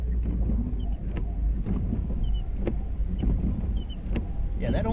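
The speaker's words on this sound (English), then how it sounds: "drive around the block one more time" A car drives slowly around a block during a snow storm, its engine and tire rumble low and steady inside the cabin, with scattered clicks and soft bumps throughout.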